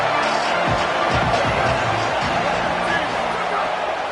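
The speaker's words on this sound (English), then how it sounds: "Listen to this crowd just shaking the girders of this place" A stadium crowd at a Penn State college football game roars loudly and continuously, a dense rumbling wall of noise under a commentator's voice.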